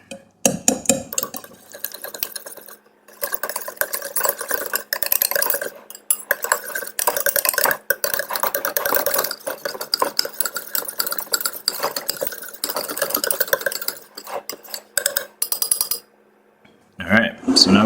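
Sour cream mixture whisked in a bowl for homemade pierogi dough: steady scraping, clinking strokes run continuously for most of the stretch, close and fairly loud, then stop briefly before a short burst at the end.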